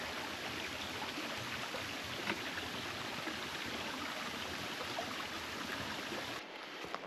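Quail Creek flows along the Rogue River Trail in a steady, close rushing wash of water that runs evenly throughout, then drops away abruptly just before the end.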